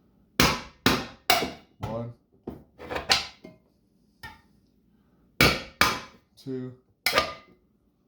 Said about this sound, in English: we're going to take our handy dandy screwdriver, our really old hammer, and we're going to put 2 nice little holes in these lids